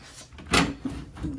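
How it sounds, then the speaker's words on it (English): A broken wooden drawer in a bedroom of an Airbnb rental is jerked open or shut, giving one sharp scraping knock followed by a couple of softer bumps and rattles, close by with no talking. "What is this, a broken drawer?"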